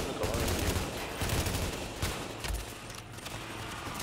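Gunfire in The Division on PS4, a long-range weapon firing in a run of sharp shots over a steady battle din, fairly close and moderately loud, with no voices.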